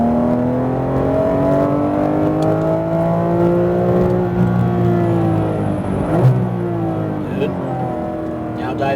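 A Porsche GT3 RS engine revs hard on a Las Vegas track, its pitch sweeping up and down through gear changes in a steady, loud in-car drone with a brief surge near the end, while an instructor talks over it.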